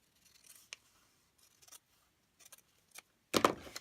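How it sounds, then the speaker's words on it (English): Scissors snip through paper during foundation paper piecing for quilting, a series of quiet, crisp close-up cuts with irregular pauses between them, ending in one louder snip. "So I just use a pair of scissors."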